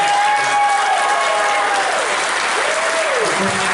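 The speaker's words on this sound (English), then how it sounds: "Big round of applause for Alkali." Loud, steady applause from a convention crowd at a closing ceremony, dense clapping with faint whistles or cheers gliding through.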